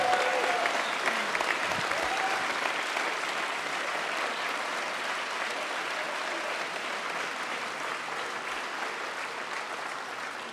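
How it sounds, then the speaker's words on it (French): A dense, steady wave of audience applause fills a political rally hall in Bordeaux, loud and continuous for about ten seconds and easing slightly toward the end. "Un tonnerre d'applaudissements pour Leila Shaibi."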